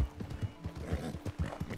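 Horse whinnying with clip-clopping hooves in the Red Dead Redemption game, a restless rhythmic beat of steps at moderate volume with no talk over it.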